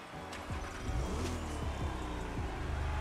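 A Porsche 911 engine in the video game The Crew Motorfest cranks and fires up, then revs several times in quick rising bursts before settling into a throaty idle.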